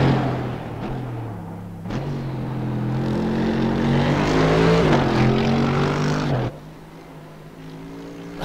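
Mercedes AMG GT3 race car in the racing simulator iRacing on the Nordschleife, its engine roaring loud and steady as the pitch climbs through the gears, then dropping sharply to a lower drone near the end.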